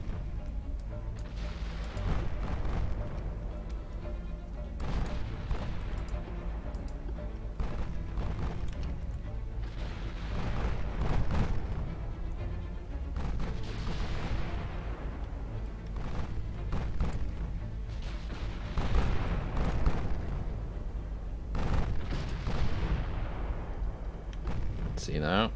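Heavy 15-inch naval guns in Ultimate Admiral Dreadnoughts, a 1940 Japanese battle, fire in repeated booming salvos every few seconds over a rumbling background, with someone talking between shots.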